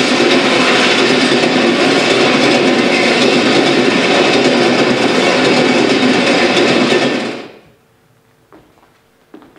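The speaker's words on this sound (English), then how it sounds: "Looks like a passing train." A passing train makes a loud, dense, continuous rumble and rattle for several seconds, then cuts off abruptly into near silence with a few faint clicks.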